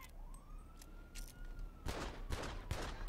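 A rising electronic whine followed by several loud, sharp gunshots in quick succession from an antique six-shot revolver in a modded GTA 5 video game, each a heavy booming crack.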